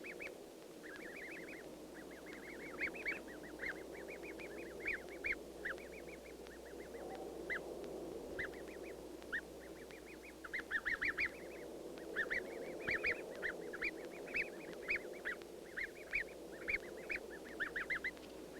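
Geese with newly hatched goslings at a tundra nest, giving repeated honking and cackling calls in irregular bursts over a steady low background, moderately near, with no talk.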